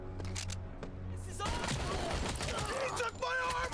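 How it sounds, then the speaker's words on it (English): Rapid gunfire from the Robocop: Rogue City video game, a dense, loud burst of shots mixed with game effects and overlapping voices, with a quieter humming stretch before the shooting erupts. "Shots fired! Shots fired!"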